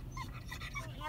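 A husky at the vet whimpers in high, wavering whines, close by and mixed with a person talking.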